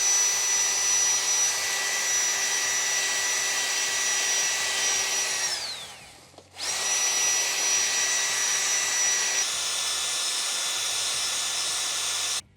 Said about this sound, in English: I'm using a steel, it's supposed to be brass, but it's brass coloured steel, brush on the top and on the front, just to clean it up a bit